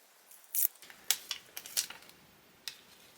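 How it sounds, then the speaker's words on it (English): Plastic protective foil being peeled off a Casio G-Shock GAE-2100RC-1A Rubik's Cube watch, heard as several short, sharp crinkling crackles spread over a few seconds against quiet background. "because I fiddled with the foil forever"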